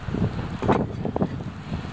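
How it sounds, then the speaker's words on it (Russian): Wind gusts buffet the microphone outdoors on a Siberian morning, a low rumbling roar with a couple of louder bursts, steady and close. "В общем, у нас ветер задувает."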